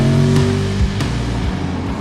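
A Chevrolet Corvette C8 engine revs hard and accelerates, loud and close throughout two seconds, with a sharp rising pitch sweep and gear-change dips partway through.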